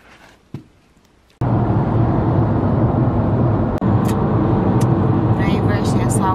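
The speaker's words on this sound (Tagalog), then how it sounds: "Nasa highway kami ngayon." A car drives along a highway, its interior road roar and engine hum steady and loud after a brief quiet start.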